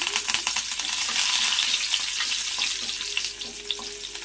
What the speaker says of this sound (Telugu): ఈ ఫ్రై చేసుకున్న కరివేపాకుని కూడా ఈ మరమరాల్లో కలిపేసేసుకున్నాం